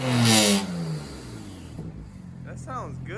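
A BMW 335i with its muffler back on gives a short loud rev that rises and falls, then settles into a low idle rumble while someone talks nearby.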